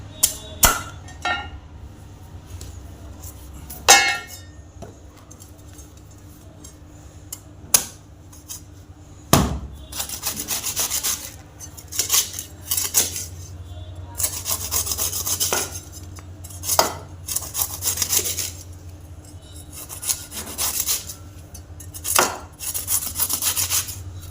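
A knife chopping open ice apple (palmyra) fruits for juice, giving scattered sharp cuts and thuds with scraping and rubbing between them, close and fairly loud, with no talking.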